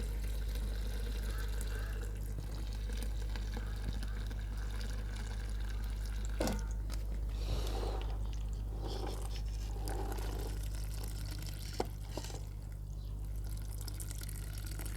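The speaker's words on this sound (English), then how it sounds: "So let me do the last sieving of the water." Water is sieved off food in an outdoor Nigerian village kitchen, a faint trickling and pouring with a few splashes and clatters over a low steady hum.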